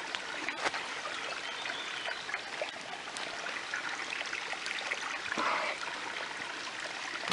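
A river trickles and burbles steadily nearby, a continuous stream flow with occasional small splashes and knocks.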